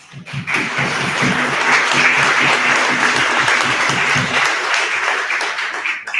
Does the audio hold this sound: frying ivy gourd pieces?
no